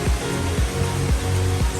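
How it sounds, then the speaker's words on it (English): The Leke-Leke waterfall rushes in a loud, continuous roar of falling water that stays steady throughout, with faint low thumps underneath. "are now in Leke-Leke Waterfall"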